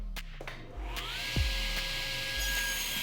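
Power saw blade set to 2 degrees cutting a notch into a wooden piece for a vinyl record holder: a steady whining motor with a brief louder bite into the wood midway, running continuously throughout.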